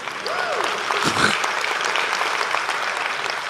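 A sympathetic crowd applauds, a steady wash of clapping with scattered cheers that runs the whole time, fairly loud and close.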